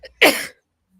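A single sharp, loud sneeze bursts out up close after a faint preceding intake of breath, then silence follows.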